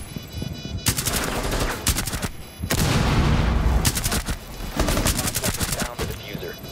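Rapid bursts of gunfire in a Rainbow Six Siege bomb-defuse round on the Tower map, loud volleys repeating in clusters with brief gaps, mixed with game effects and a voice talking over it.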